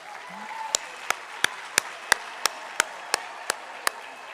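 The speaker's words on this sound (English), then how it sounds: "Let's give them another hand of applause." At a university graduation ceremony, a hall audience produces faint background applause punctuated by about ten evenly spaced, sharp percussive hits, roughly three per second, standing out loud and crisp.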